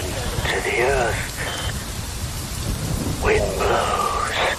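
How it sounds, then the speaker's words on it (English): Steady rain and rolling thunder in Metal Gear Rising: Revengeance, a continuous wash of downpour heard under a processed, echoing voice speaking in two passages. "Wind blows, rain falls."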